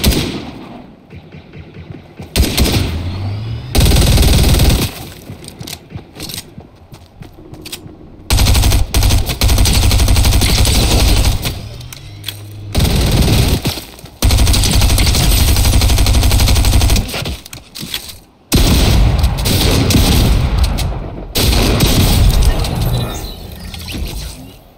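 Sustained automatic gunfire in Fortnite, loud bursts and long rattling volleys with brief gaps, heavy recoil-driven sprays of shots across a tense firefight.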